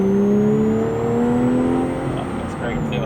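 Porsche 996 Carrera fitted with a Fabspeed full exhaust system, heard from inside the car as a loud, steady engine drone with gently rising pitch, holding evenly throughout.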